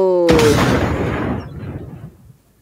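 An enemy car is destroyed in Fortnite with a sudden loud explosive boom that cuts off a sustained tone and then decays as a long rumbling tail.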